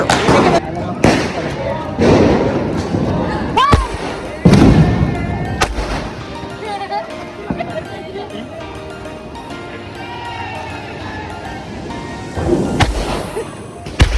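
Diwali firecrackers burst close by, several loud sharp bangs in the opening seconds and again near the end, with crackling and rumbling echoes between them and people talking and shouting around the blasts.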